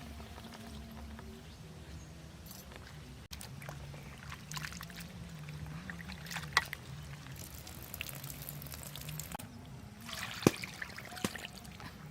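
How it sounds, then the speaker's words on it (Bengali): Raw country chicken rinsed with water for a curry to be cooked in a clay pot, giving a steady low pouring and trickling wash with intermittent splashes and clinks throughout. "মাংসটা জল দিয়ে খুব ভালো করে ধুয়ে নেব।"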